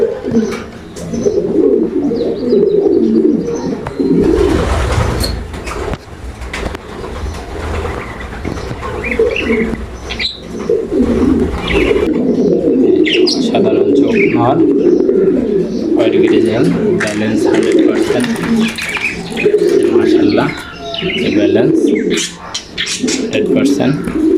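Several pigeons coo in repeated soft, throaty bursts close by, with a voice talking over much of it and brief rustling noises in between.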